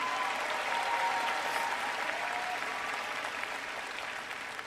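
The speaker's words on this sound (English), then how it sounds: "give a round of applause for your family and friends here today" Sustained applause from a graduation audience fills the room, steady and broad, fading slightly toward the end with no one speaking.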